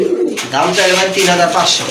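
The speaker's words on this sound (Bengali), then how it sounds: "হ্যাঁ কবুতর কিন্তু অনেক ভালো ডাকে" A pair of caged pigeons on a pigeon farm coo loudly and close by in repeated throaty calls, with a voice also present.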